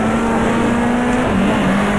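A race car engine in the GTR2 racing game, in a 1994 Australian Manufacturers Championship race at Oran Park, drones loudly and steadily at high revs with a slight dip in pitch near the end.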